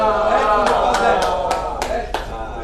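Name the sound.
audience applause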